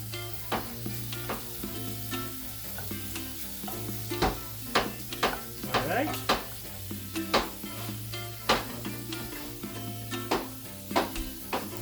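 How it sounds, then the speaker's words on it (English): Ingredients sizzle steadily in a pan over near-maximum heat, a constant close frying hiss broken by frequent sharp clinks and scrapes of stirring, with no talking. "We want to increase the heat almost to the maximum. We don't want to burn them, but just they need to be sizzling."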